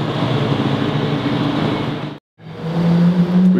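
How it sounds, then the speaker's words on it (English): V8 car engine at a street car meet, a loud close rumbling roar with a rising tone, cut by a brief silence before the engine drones on again. "Damn, that V8."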